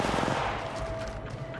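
Gunfire in Apex Legends Mobile, dense overlapping shots clattering in a sustained burst through the whole moment, loud and close with a thin electronic tone running underneath.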